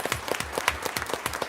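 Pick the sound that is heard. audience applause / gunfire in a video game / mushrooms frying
audience applause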